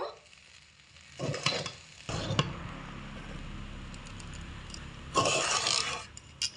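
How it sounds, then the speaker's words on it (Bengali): A spoon stirs vegetarian pulao made from parboiled rice in a pot after the lid comes off, giving two short bursts of scraping and rustling early, a quieter stretch, then another scraping burst near the end. "ঢাকনাটা খুলে দিচ্ছি একটু নাড়াচাড়া করে নেব"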